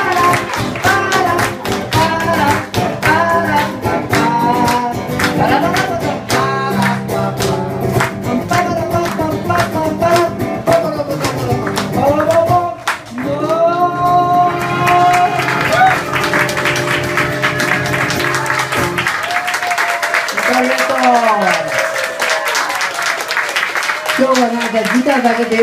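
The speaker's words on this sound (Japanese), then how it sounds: "温かい拍手並びに、温かい間、ありがとうございました" At the end of a live solo concert, the audience claps steadily alongside sustained instrumental music, and a voice then speaks over the continuing applause.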